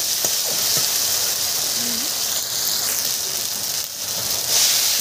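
Tomato sautés with spices in a pan for ghugni, a continuous loud sizzle and steamy hiss with a few faint scrapes and small squeaks underneath.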